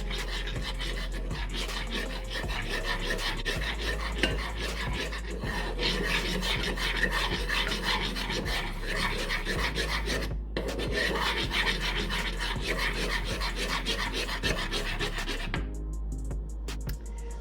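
Brioche burger bun ingredients being mixed, a steady rasping, rubbing churn that runs continuously and close with little variation, dropping briefly near the end.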